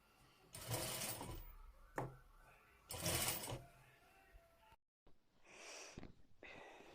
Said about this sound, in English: let me continue sewing it